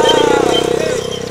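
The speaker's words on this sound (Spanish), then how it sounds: "¡Ya tiene moto!" A motorcycle engine revs loudly with a pulsing buzz as it is ridden close by, while excited voices shout over it.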